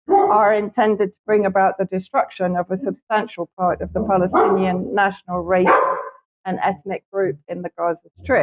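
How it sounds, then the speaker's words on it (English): A neighbour's dog barks in short, repeated bursts in the background while a person talks steadily in the foreground. "apologies for the dog barking, my neighbors suddenly decided to go on the"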